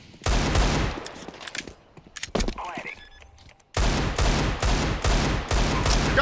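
Rapid automatic gunfire bursts in a competitive shooter game, loud and close, broken by a quieter stretch with scattered single shots and clicks before heavy sustained firing resumes.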